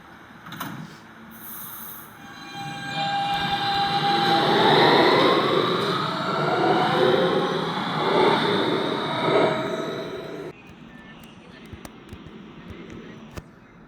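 A New York subway train at Whitehall Street–South Ferry station rumbles and squeals as it rolls through, building to a loud roar mid-clip before cutting off into quieter platform ambience.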